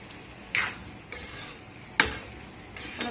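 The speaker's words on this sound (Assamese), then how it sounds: "নিমখখিনি দি এতিয়া মাংসখিনি ভালদৰে ভাজি ল'ম" Chicken meat sizzles in a pan while being stirred, with four or five scraping strokes and light clinks over a low, steady frying hiss.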